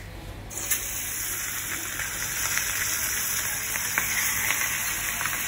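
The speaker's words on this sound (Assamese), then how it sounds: "মাছ ভাজি আছোঁ" Steady, close sizzling and crackling of food frying in hot oil, a continuous spitting hiss with occasional small pops, no voices.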